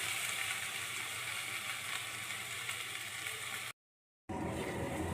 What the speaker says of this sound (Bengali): এবারে দিয়ে দেবো এই যে কাঁচা লঙ্কা, আদা, রসুন, পেঁয়াজের পেস্ট। এটাকে ভালো করে একদম লাল লাল করে ভাজবো।